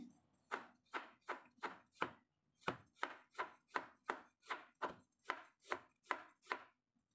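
A knife slices fresh ginger for pickling in about sixteen crisp, evenly spaced cuts against a board, close and clear, with a brief pause partway through and no voices.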